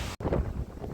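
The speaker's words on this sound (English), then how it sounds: "still getting battered by the wind" Strong wind batters the microphone of a cyclist riding along a towpath, making a loud, low, rumbling buffet with a split-second cutout.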